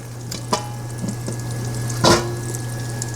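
Prime rib roast searing in melted salted butter in a pan, a steady close sizzle with a few sharper crackles and stirring clatters, no voices.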